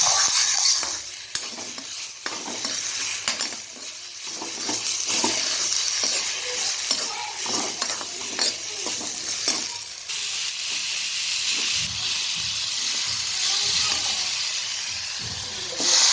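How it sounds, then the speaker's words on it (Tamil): Onion, cumin, ginger, turmeric and salt sizzle and hiss steadily in a hot pan while a spoon stirs and scrapes through them, close and continuous. "எல்லாத்தையும் நல்லா வதக்கிடலாம்"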